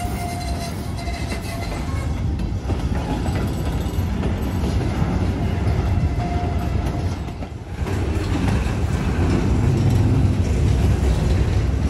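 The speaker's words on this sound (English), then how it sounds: "This train is heading southbound." A southbound freight train rolls steadily past nearby, its wheels rumbling and clattering continuously over the rails with no voices.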